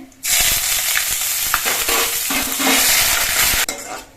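Panch phoron spices frying in hot oil in a pot, a loud steady sizzle with stirring scrapes and occasional clinks of a utensil against the pot, running continuously before cutting off abruptly near the end.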